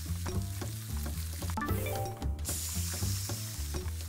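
Steaks sizzling in the cooking game Innchanted, a steady frying hiss running throughout over a busy layer of game music and effects, loud and close.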